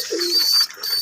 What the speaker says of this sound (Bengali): এটি হচ্ছে খুলনার বিখ্যাত গলায় লাল কবুতর